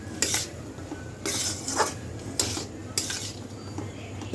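Soya chili fried rice being mixed in a pan, with a series of scraping, clattering strokes of a spoon against the metal arriving in bursts over a faint steady hiss.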